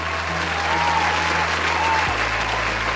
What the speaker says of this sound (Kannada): ರೆಡಿ, 1 2 3 ಬರಲಿ ಜೋರಾದ ಚಪ್ಪಾಳೆ